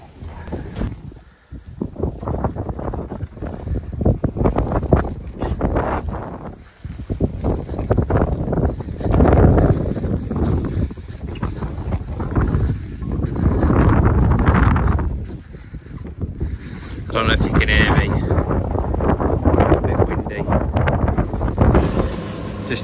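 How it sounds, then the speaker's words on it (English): Strong wind buffeting a microphone outdoors at a farm with pigs, giving a loud, continuous low rumble broken by heavier gusts throughout, with no voices. "I don't think we'll be able to film outside today because it is so windy."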